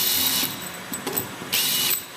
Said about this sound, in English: So I am drilling the holes out with a 3/32